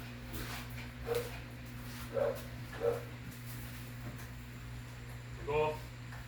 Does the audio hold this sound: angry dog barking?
yes